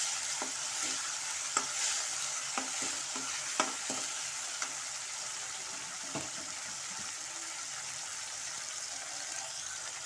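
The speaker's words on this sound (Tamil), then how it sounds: "இப்போது இதோட நான் முருங்கைக்காவும் கத்திரிக்காயும் சேர்த்து வதக்கிடலாம்." Drumstick pieces and eggplant sauté in an oil pan, giving a soft continuous sizzle broken by scattered clicks and scrapes of stirring, near and moderately quiet.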